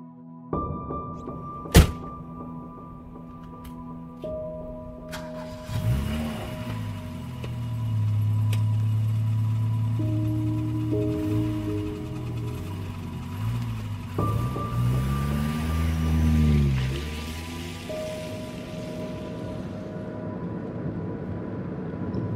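A radio drama car sound effect starts with a sharp door thunk, then the engine starts up and revs as the car drives off in steady, rising and falling engine tones.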